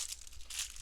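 Plastic bags of LEGO parts are torn open with a brief, faint crinkling and crumpling rustle, quiet and close.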